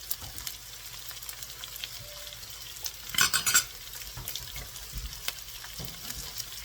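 Ginger, garlic and chili sizzling in sesame and cooking oil for shrimp fried rice, with a steady frying hiss and a cluster of sharp utensil scrapes and clinks near the middle. No one speaks.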